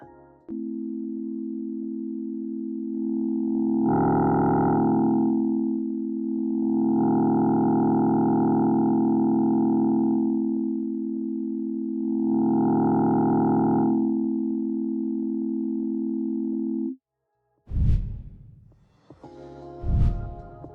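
A steady synthesized sine wave with buzzy wavefolding distortion that swells brighter in three long passages, then stops, followed by a couple of short thumps.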